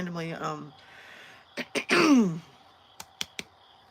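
A throat clearing, a rough scraping vocal burst in the middle, followed by a few sharp clicks; a bit of speech-like voice at the start.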